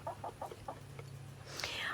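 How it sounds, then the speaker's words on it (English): Turkeys on a homestead give a short run of repeated clucking calls, then a louder squawking burst near the end, heard close over a steady low hum. "The turkeys are upset about the dogs being around for some reason all of a sudden."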